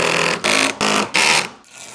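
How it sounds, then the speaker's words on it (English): An electric driver buzzes in three quick, loud bursts with brief pauses between, driving a screw into a desktop for a sit-stand desk frame, ending with a short, quieter whir. "Screw it into place."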